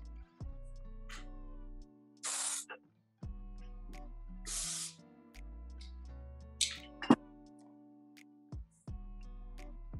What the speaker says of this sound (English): hairspray, which I can spray into the hair to have a little bit more volume in there